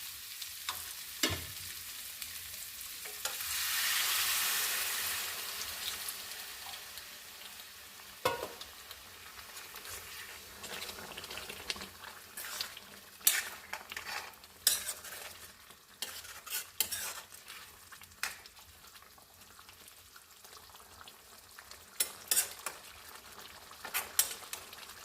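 Potato curry (aloo dum) sizzles in a pan on a gas flame turned high, with a loud hissing burst as hot water is poured in, then quieter simmering and intermittent stirring scrapes and clinks.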